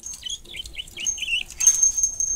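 A small bird chirps and tweets in quick high-pitched calls close by, ending with a brief burst of rustling.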